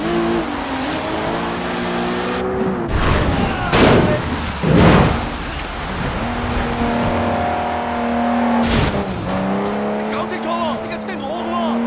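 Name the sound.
car chase and hijack in the video game Sleeping Dogs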